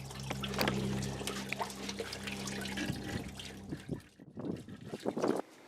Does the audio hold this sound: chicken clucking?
no